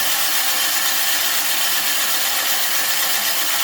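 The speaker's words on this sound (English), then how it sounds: "you can hear the blades grinding, and as they spin, it's basically sharpening both the blades and the bed knife" Reel mower blades spin against the bed knife with grinding compound during backlapping, a loud, continuous, even rasping grind with no break.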